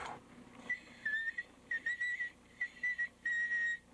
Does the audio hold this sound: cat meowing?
no